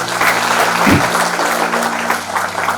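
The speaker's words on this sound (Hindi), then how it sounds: "तालियों से स्वागत।" An audience claps steadily to welcome a guest onto the stage at a Hindi-language event, with a low hum or music running underneath and a brief thump near the start.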